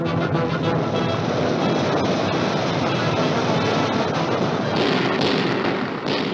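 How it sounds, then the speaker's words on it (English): Dense, continuous bursts of heavy gunfire and booming blasts pound without pause, loud and close, over a churning wash like rough water, as gunfire is turned on a crippled Nazi submarine forced to the surface during wartime. "a torrent of gunfire is turned on the crippled sub"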